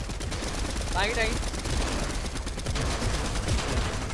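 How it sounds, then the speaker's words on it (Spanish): Gunfire in the video game Fortnite crackles through a dense, noisy mix, with a brief voice calling out partway through. "que cantidad de tiro le di a esa gente, que cantidad de tiro me dieron"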